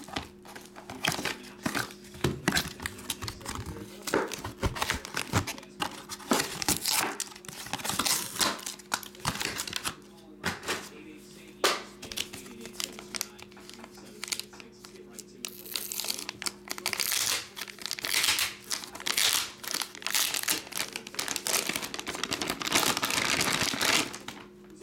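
Card pack wrappers crinkle and rustle in repeated bursts while cards are shuffled during a box break of Chicago's 2022 Super Glow trading cards, with people talking over the handling throughout.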